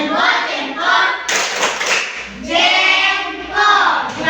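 A classroom of students claps for two presenting groups in bursts of brisk, close hand claps, with short pauses and some thumping between rounds.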